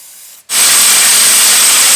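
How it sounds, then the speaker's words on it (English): A brief quiet pause, then a loud, close aerosol spray of oil onto bolt threads on a Ford Mondeo Mk5 hisses continuously to the end. "spray the threads with oil"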